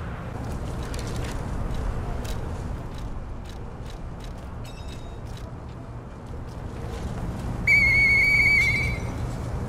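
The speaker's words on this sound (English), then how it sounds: "I know that whistle." A high whistle tone in the video game Lies of P sounds near the end, steady and bright over a continuous ambient game background with scattered soft clicks.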